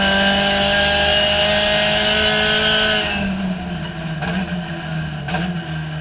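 A COMMA SRF3 race car laps Hallett Motor Racing Circuit, its engine screaming at high revs in a steady loud drone, then easing off with shifting, lower rumbling pitch toward the end.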